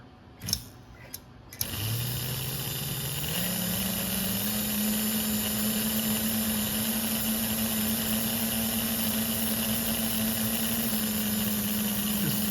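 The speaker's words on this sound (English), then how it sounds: "it can be pretty noisy, but at least it lets me know that the motor is functioning without shorting" A model train's rebushed diesel motor truck, from a Santa Fe "Chief" type build, runs on test blocks with a steady, close electric whine and buzzing hum that starts after a couple of brief knocks and then holds without pause.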